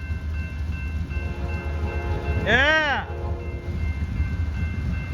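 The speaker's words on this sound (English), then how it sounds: "Here comes San Joaquin train 718." An Amtrak San Joaquin passenger train passes by, its horn sounding one brief loud rising-then-falling blast over a steady rail rumble, with a person briefly speaking.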